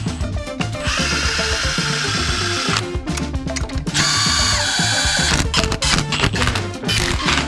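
A power tool whirs in sustained runs while tightening bolts on an Audi 4.2 V8 engine, loud and close, with two long bursts and short pulses between them.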